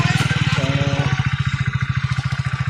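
Motorbike ridden on a food delivery run, its engine thumping in a fast, regular pulse close by, steady and loud with a brief rise in revs partway through.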